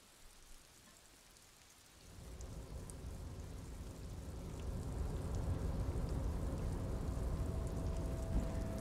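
Rain falls in Disco Elysium, starting faint and swelling into a steady, dense downpour with soft patter throughout, no voices.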